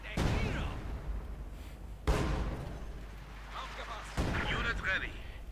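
Artillery barrage in the World War II strategy game Company of Heroes 2, three heavy booming impacts spaced about two seconds apart with rumbling tails, beneath a commentator talking.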